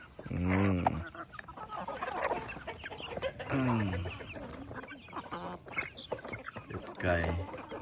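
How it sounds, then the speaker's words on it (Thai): Chickens cluck and squawk in repeated bursts close by at a Lao town in Fresno, California, while people talk underneath. "ไก่"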